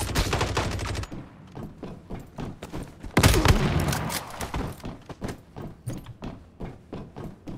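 Gunfire in the video game Once Human rattles in rapid bursts, dense automatic fire at the start and again after a pause, then settling into evenly spaced single shots, loud and close.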